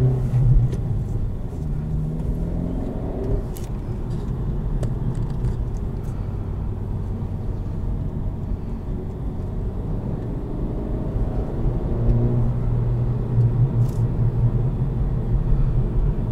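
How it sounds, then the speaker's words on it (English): A 2023 Acura Integra A-Spec with manual gearbox runs with a steady engine rumble and low exhaust burbles, heard from inside the cabin while driving, with no talk. "First of all, burbles. This has them."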